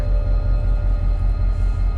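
A locomotive passes close by on a coal mine rail line in Silesia, Poland. It makes a loud, steady, continuous rumble with a low droning hum and no voices.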